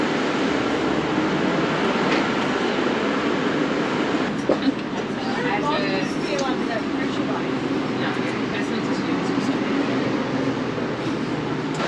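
A V/Line passenger train running from Melbourne to Ararat gives a steady, loud cabin rumble with rolling wheel noise heard from inside a carriage, while a voice talks faintly underneath.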